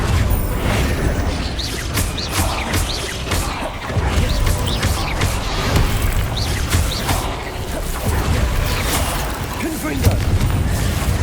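Repeated fire spell blasts from Confringo in Hogwarts Legacy crack out in quick succession, sharp bursts and crashes layered over rumbling game effects with no pause in the action.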